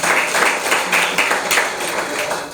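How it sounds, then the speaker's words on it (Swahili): Audience applause at a youth social development event honouring a cabinet secretary, a steady wash of clapping with a few louder swells over about two and a half seconds. "Makofi kwa CS wetu"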